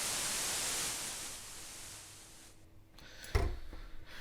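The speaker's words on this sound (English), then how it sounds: "We have a noise generator," White noise from the noise generator of the Arturia Yamaha CS-80V synth plays as a steady hiss, quieting midway and then cutting off, followed by a brief click.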